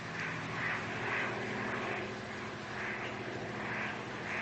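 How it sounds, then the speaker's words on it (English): A propeller airplane flies overhead, its engine drone steady and moderately loud throughout, with a gentle rising and falling throb and no voices. "Somebody's in that plane that you know."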